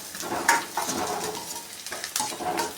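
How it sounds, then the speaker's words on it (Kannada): Chopped onion, ginger and garlic frying and being stirred in a pan for Gobi Manchurian, a steady close sizzle broken by a few louder scraping stirs, with no talking. "ಈ ರೀತಿ ಸಣ್ಣದಾಗಿ ಹಚ್ಚಿರೋಂಥ ಈರುಳ್ಳಿ, ಶುಂಠಿ, ಬೆಳ್ಳುಳ್ಳಿ ಎಲ್ಲನೂ ಕೂಡ ಈ ರೀತಿ ಚೆನ್ನಾಗಿ ಫ್ರೈ ಮಾಡ್ಕೊಬೇಕು"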